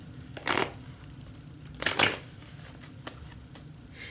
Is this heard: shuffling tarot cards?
yes